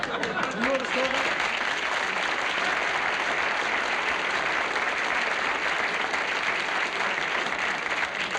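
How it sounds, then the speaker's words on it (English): Studio audience applause at a television comedy hour, a dense steady clapping that stays loud and even throughout, with a brief voice at the start. "About time you applauded something."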